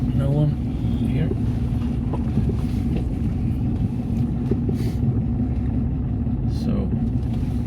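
A 1964 Porsche 356 idles and reverses out onto a street, its compact engine a steady low rumble throughout, with someone talking over it.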